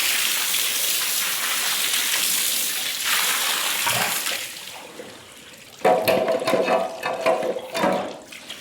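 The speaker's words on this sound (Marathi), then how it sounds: "आता मी धुणार आहे बाहेरचा गोठा" Water sluicing across the floor of a cowshed during washing, a steady broad wash that thins out midway, then returns stronger with splashing and gushing, close and fairly loud.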